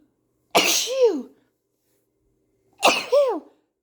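Two loud, close sneezes set off by black pepper, each a sharp burst with a rising squeal, separated by about two seconds of silence.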